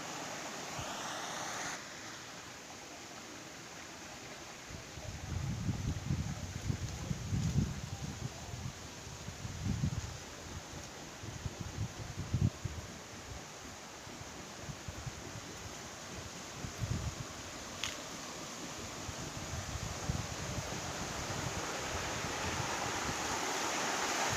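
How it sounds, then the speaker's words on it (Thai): Rushing water roars steadily, with a continuous, full hiss of a waterfall and churning swirling stream swelling and easing slightly over time, at a temple in Thailand. "ท่ามกลางเสียงน้ำตก เป็นลำธารน้ำวน"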